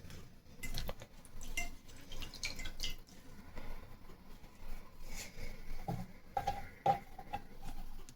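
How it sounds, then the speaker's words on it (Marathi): A cotton cloth soaked in water drips in a kitchen, giving faint, scattered drips and small clinks, close by and quiet, with no talk. "त्यासाठी मी असा एक कॉटनचा कपडा घेतला आहे, तो आपण पाण्यात भिजवून घेऊ"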